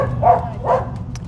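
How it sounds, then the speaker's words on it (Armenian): An aggressive dog barks twice close by, with two short, sharp barks about half a second apart. "սա հաչելու է, նայի։ Հաչում է նա"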